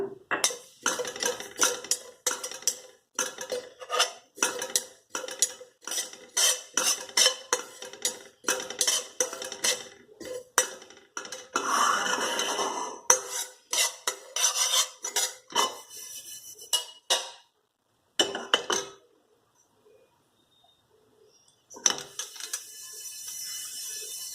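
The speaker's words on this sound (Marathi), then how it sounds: "लोखंडी कढई पहिला खसखस भाजून घ्या" Rapid metallic scraping and clinking of a utensil against an iron wok while roasting poppy seeds, steady and close, pausing briefly near the end before resuming.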